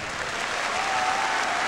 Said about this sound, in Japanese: もう一度六車拓哉選手に温かい拍手をお願いします